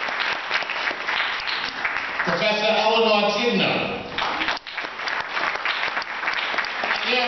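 Audience clapping for honorees at an African Heritage emancipation celebration, a steady wash of hands throughout, with a speaker's voice announcing names over it and some tonal voice or music rising in the middle.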